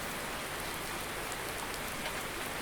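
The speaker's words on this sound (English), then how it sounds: "if you notice it's raining." Steady rain falls on a farm in Farming Simulator 19, a dense continuous hiss of drops on surfaces around a barn, even and unbroken with no other sounds.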